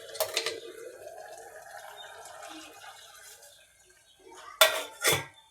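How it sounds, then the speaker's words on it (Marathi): Warm water is poured into a pot of cooking mutton for a Kolhapuri curry, a short gentle stream followed by quiet, then two sharp clinks of metal utensils near the end. "परत आपलं पाणी थोडं गरम झालेलं आहे, ते आपण टाकणार आहोत त्याच्यामध्ये।"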